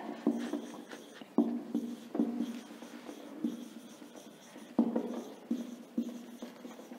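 A pen or marker writing keywords during a classroom lesson, producing steady scratchy strokes broken by periodic taps as each word starts, close and fairly quiet with no talking.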